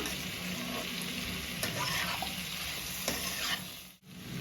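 Ingredients being stirred and mixed in a pan of hot oil while cooking a dish of greens, a faint, even sizzle with occasional soft spoon scrapes and a brief pause near the end.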